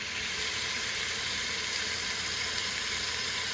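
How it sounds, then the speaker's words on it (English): Meat sears in an Instant Pot on the saute setting, giving a steady close sizzling hiss that holds evenly throughout with no talking. "So here it's searing on one side"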